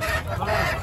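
A live chicken squawks and clucks loudly and close by at the Nagri tribal market in Ranchi. It is a single short, honking burst with market bustle behind it.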